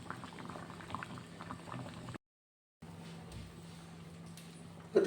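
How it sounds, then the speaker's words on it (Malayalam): Curry bubbles in a pot on the stove, a faint, steady simmering with soft popping bursts, broken by a brief silent gap partway through, then a small clatter at the very end. "കറി നല്ല തിളക്കിണ്ട്"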